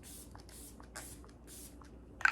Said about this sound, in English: let's set this with my Care Bear setting spray